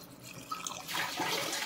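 Water splashes and pours into a curry cooking in a pot, starting with a few soft drips and then swelling into a steady, close pouring rush.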